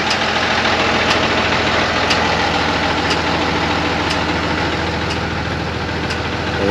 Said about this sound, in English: Mustang GT